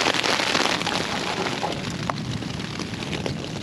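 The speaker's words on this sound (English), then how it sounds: "It's raining so hard." Heavy rain pounds down during a thunderstorm on a solo backpacking camp, a dense, loud, unbroken hiss of drops striking close by with no talking.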